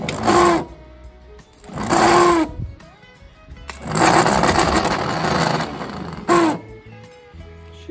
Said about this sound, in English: try our new starter motor